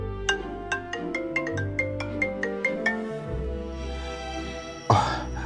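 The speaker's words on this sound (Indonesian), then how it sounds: "Ada telepon." A phone ringtone plays a bright, steady run of chiming notes for several seconds over a low background, then cuts off into a brief rustling noise.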